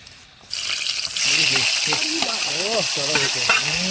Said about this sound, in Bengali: তো বন্ধুরা মাছ ভাজা আমাদের কমপ্লিটের দিকে